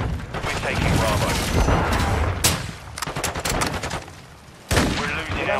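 Rapid gunfire in Modern Warfare 2 on the Shipment map in Domination mode, dense bursts and sharp single cracks with a loud blast near the end, under shouted in-game callouts.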